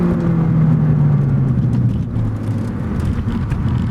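A stock 2018 Ford Focus ST accelerating hard on a race track, heard from inside as a loud, continuous engine drone with a rising then steady pitch, no speech over it.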